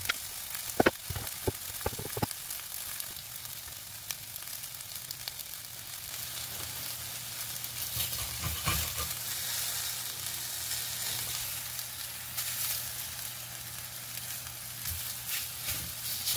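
Steady sizzling of flour-coated chicken frying in a hot pan, a few sharp clicks at the start, then continuous crackling hiss.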